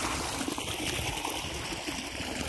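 Water runs out of a pipe from an overhead supply on a farm before the motor is switched on, a steady low splashing trickle that continues evenly throughout.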